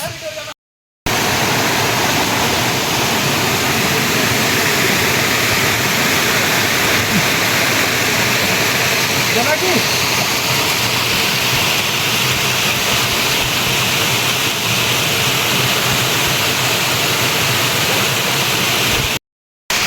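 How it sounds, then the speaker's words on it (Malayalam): Steady, loud rush of a waterfall close by, a dense broadband roar that continues unbroken for nearly the whole stretch, with no clear voices over it. "ഇവിടെ വെള്ളച്ചാട്ടത്തിൻ്റെ അടുത്ത് നിൽക്കുകയാണ്"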